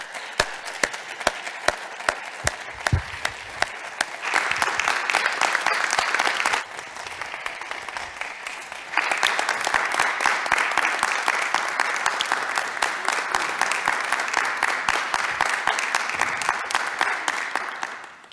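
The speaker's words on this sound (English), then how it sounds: "let's all give a warm round of applause to our legendary quarterback, Joe Theismann." A conference audience applauds to welcome quarterback Joe Theismann for a keynote at the WAEPA 2022 Federal Summit, with sustained dense clapping that briefly dips and then swells again, close and loud with no talk.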